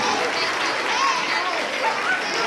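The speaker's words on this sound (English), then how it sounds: "One more round of applause, please, for grade 3." Sustained clapping from a school concert audience after a grade 3 performance, a dense, even patter of many hands with faint voices mixed in.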